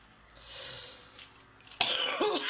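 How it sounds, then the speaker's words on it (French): A person crafting paper flowers gives a rough cough and throat clearing near the end, close and fairly loud after a quiet stretch. "Rien qu'en train de tousser"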